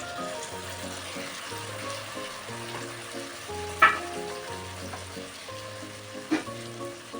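Onion and capsicum frying with spices as tomato paste goes in for chilli soya bean, a soft steady sizzle with a couple of brief utensil clicks and no talking.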